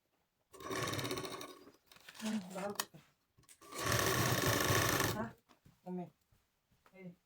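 Sewing machine stitching katori blouse fabric in two steady bursts, the first with stuttering stops, separated by pauses; someone speaks between the runs.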